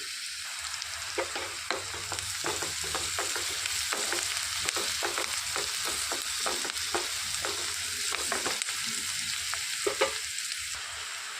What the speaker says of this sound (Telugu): ఇందులోనికి 2 పచ్చిమిరపకాయలు కట్ చేసి పెట్టుకుని వేసుకొని వేయించుకోవాలి.